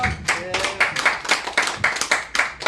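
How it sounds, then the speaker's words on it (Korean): Audience clapping at the start of a real estate investment lecture, a close, loud burst of rhythmic hand claps from a small group in a room, beating in quick regular pulses. "박수 한번 치겠습니다."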